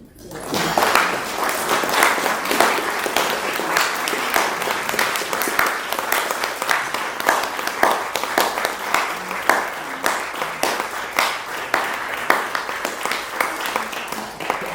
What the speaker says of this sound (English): So please give a round of applause for the Harwood.